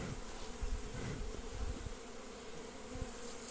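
Apis honey bees swarm and buzz loudly during a hive capture from a tree stump, a dense, continuous drone with occasional close passes, no voices.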